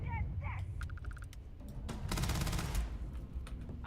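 Starfield video game gunfire comes as two short bursts of rapid shots, the second longer and louder, over low background game noise with a few faint chirpy tones at the start.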